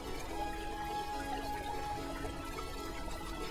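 Water bubbles in a garden fountain at Untermyer Gardens as a steady, even splashing wash that runs continuously at moderate volume.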